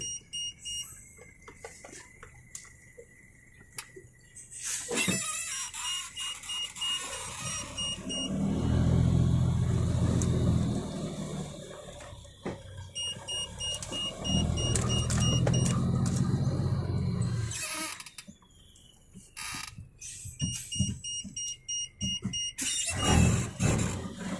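A car drives along a road, its engine swelling into two longer stretches of low rumble while steady beeping tones and clicks from inside the cabin run throughout, close and without speech.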